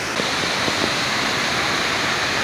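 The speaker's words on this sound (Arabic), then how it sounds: "نأمل أن تستمتعوا معنا بمشاهدة هذا الشلال." The Shaki waterfall in Sisian, Armenia pours as a constant dense roar of falling water, loud and even throughout with no voices.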